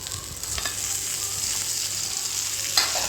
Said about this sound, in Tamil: எல்லாத்தையும் ஒரு நிமிஷம் வதக்கி எடுத்துக்கலாம்.